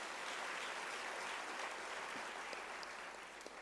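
Audience applause at a UNISA autumn graduation ceremony, a dense, steady roar of many hands clapping that holds at full strength throughout with no voices over it.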